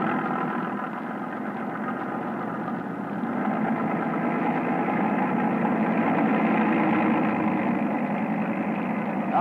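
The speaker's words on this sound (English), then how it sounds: "McIntosh, third engine, full throttle." Motor torpedo boat engines run at full throttle in fog, a steady, loud, droning roar with a dense low rumble that holds for the whole stretch and swells slightly toward the end.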